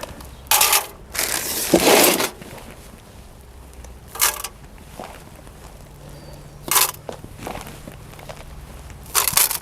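Potting mix being scooped and tipped into a tin container for planting Liatris spicata corms, heard as a few separate crunchy, gritty bursts with quiet pauses between them, close by and with no talking.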